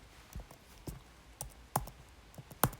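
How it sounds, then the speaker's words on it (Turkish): Sparse, quiet clicks of keys tapped on a computer keyboard while playing Minecraft, irregular and close, with a few sharper presses standing out against faint background hiss. "acaba klavye sesini duyuyor musunuz?"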